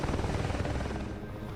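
An attack helicopter in the combat flight simulator game DCS World fires its weapons, with loud, dense rumbling and rapid gunfire that runs continuously through the short stretch.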